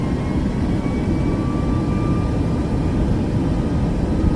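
Jet airliner engines roar in the MSFS2024 flight simulator during a manual thrust increase for takeoff, a loud, steady, dense rumble that holds without a break.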